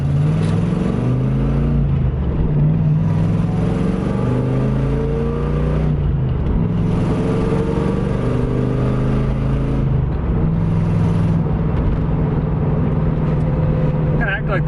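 A 1982-1992 Camaro Iroc-Z engine runs unevenly as if the choke is sticking, its loud, continuous drone with wavering pitch heard from the driver's seat, with someone talking over it.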